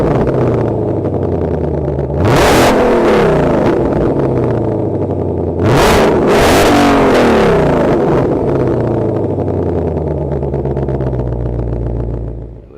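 A Ford Mustang GT500 engine drones loudly from inside while driving, climbing in two strong revving surges with gear changes, staying close and continuous throughout.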